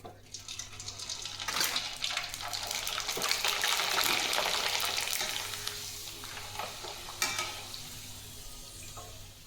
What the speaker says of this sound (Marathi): छोटासा पापड आहे तेलात टाकलं बघा किती मोठा होतो